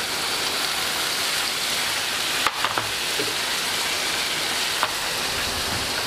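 Fish sizzling and being stirred in a frying pan, a steady hiss of frying throughout with a few brief scraping clicks from the stirring near the middle.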